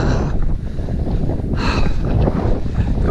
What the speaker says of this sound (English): the wind's dipping a little bit, which is good